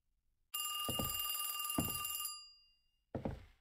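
A shrill electronic telephone rings in a spooky video game, one long steady trill that stops, then starts again after a pause, loud and alone, with low thuds underneath.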